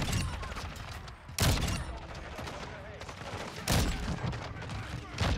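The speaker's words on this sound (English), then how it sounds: "Fire shotgun." Shotgun blasts in the video game Modern Warfare 2 boom out loudly three times, a couple of seconds apart, over a continuous bed of gameplay noise.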